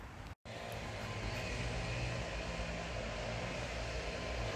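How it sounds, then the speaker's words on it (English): Steady droning engine whine from distant string trimmers, a constant buzzing hum with no talk over it. "That noise is basically people strimming"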